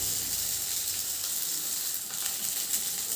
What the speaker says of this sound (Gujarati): ગેસની ફ્લેમ મીડિયમ રાખવાની અને આ રીતે બધી ટિક્કી શેકી લેવાની